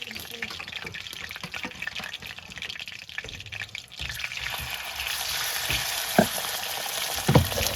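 Meat fries over a flame in an Indian home kitchen, a crackling sizzle that swells louder midway, with scattered clinks and a brief knock near the end.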